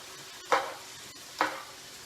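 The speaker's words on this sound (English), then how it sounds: "I'm going to go ahead and put the soy sauce in now. Going to give it one last mix." A cabbage stir fry with soy sauce is stirred in a pan, two distinct scraping swishes about a second apart over a low, quiet sizzle, close by with no speech.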